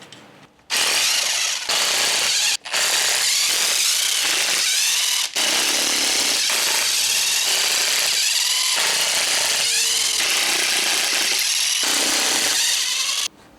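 Power tool removing screws from an ACE transmission: loud bursts of harsh mechanical buzzing and rattling, repeated several times with short pauses between them, close up and with no talking.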